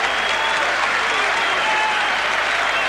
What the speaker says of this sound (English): the crowd really have always given Bugner the encouragement